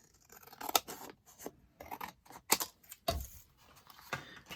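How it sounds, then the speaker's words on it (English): Scissors cut straight across paper card in a string of crisp, close snips, each followed by a quiet pause, with soft rustling of the card between cuts. "So this one, I'm gonna just cut straight across here."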